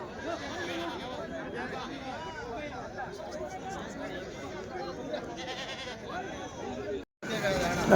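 Sheep and goats bleating at the Tuesday livestock market in Kadiri, scattered calls rising over a dense murmur of crowd chatter and people talking nearby, with a brief cut near the end.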